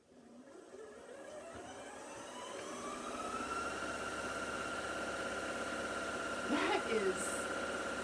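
A sewing machine pushed to full speed with the pedal floored, its motor whine climbing steadily in pitch and then holding as a loud, fast, continuous drone, with a short voice near the end.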